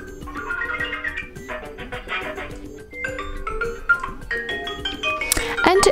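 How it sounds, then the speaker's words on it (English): Ringtone preview on an HTC Desire 12 Plus phone: a bright melodic electronic tune with shifting notes that plays steadily for several seconds with no talking. "in order to listen how the particular one sounds, simply tap on it"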